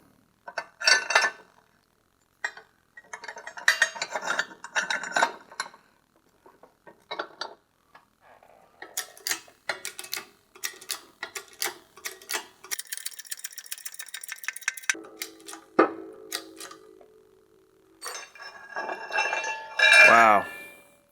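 A steering stem is pressed into the triple tree clamp of a Yamaha TRI-Z 250 with a homemade tool, producing a series of close metallic clinks, taps and rattles, ending in a brief scraping squeal.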